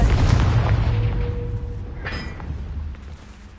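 Confringo fire spell blast in Hogwarts Legacy: a loud booming burst up front that rumbles and decays over a few seconds, with a brief bright magical shimmer partway through.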